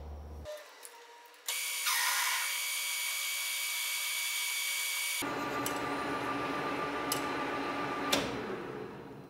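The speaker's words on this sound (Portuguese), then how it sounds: "Agora eu vou entrar com a broca para dar continuidade na furação." On a metal lathe, a drill bit bores into a metal workpiece: a steady, loud mechanical whine and grinding hum runs continuously after a quiet start, with occasional sharp clicks and ticks, no voices.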